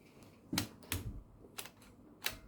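An old typewriter is struck key by key in a few sharp, separate clacks at an uneven pace. The strikes are close but quiet against a faint background hiss, with no one talking.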